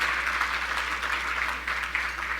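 Sustained audience applause at Fulton County Chairman Robb Pitts' 2025 State of the County Address, a steady, even wash of many hands clapping in a large hall with no break.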